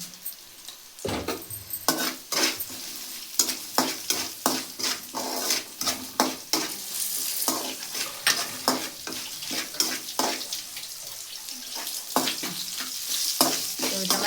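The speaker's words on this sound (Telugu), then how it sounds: "వేసుకుందాం అలాగే ఒక స్పూన్ అంతా జీలకర్ర" Cumin seeds sizzle in a hot pan with oil for jeera rice, a steady close frying hiss broken by frequent sharp scrapes and clinks of a spoon stirring against the metal.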